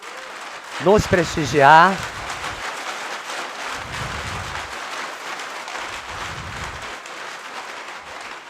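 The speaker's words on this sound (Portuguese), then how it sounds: "E agora a salva de palmas é para eles todos que estão aqui" Applause from the audience at a solemn council session on diversity and democracy, a soft, even patter of clapping that runs throughout under a brief spoken phrase near the start and some low murmurs.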